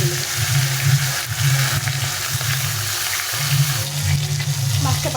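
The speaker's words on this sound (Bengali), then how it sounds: "মাছের মুড়োগুলো ভেজে নেব।" Katla fish heads frying in hot, smoking mustard oil, a continuous close sizzle and crackle with a low steady hum beneath, no talking.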